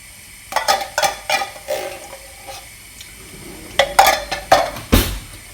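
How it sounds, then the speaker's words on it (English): Utensil stirring a gnocchi tomato bake with chopped tomatoes in a pan, a series of close scraping, clattering strokes in short bursts with brief pauses between them, no talking. "So you're going to stir through the tomato stuff"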